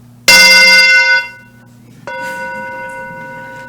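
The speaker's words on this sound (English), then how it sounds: "I wasn't going to miss the bell" A bell or singing bowl is struck twice in a quiet church service, the first strike loud and ringing out for about a second, the second softer and sustaining its bright tone to the end.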